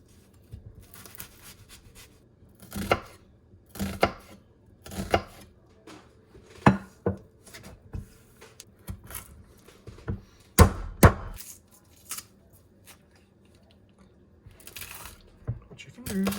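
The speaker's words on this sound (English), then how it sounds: "we are going to mince this whole onion, the chili pepper, we're going to mince the garlic" A knife chops onion, chili pepper and garlic on a board in irregular bursts of sharp taps and thuds, separated by quiet pauses, with a person talking at times between the cuts.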